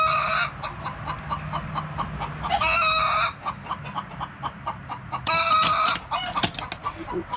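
A broody hen sitting on her nest makes repeated close clucks and low growling calls, broken by louder bursts of agitated squawking, with no talk over it.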